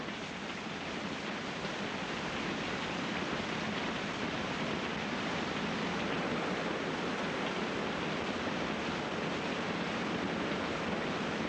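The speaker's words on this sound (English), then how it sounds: "Malcolm called this the horizontal waterfall back in 1971 in his film Follow the Sun" Tidal water surges through the horizontal waterfall in the Kimberley, Australia, as a dense, unbroken roar of rushing water that holds steady and loud with no pauses.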